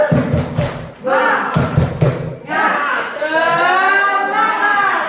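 Teachers perform a rhythmic 'tepuk semangat' spirit clap, with bursts of group clapping and thuds in a patterned beat. Voices chant along during the clapping, and a drawn-out group cheer follows.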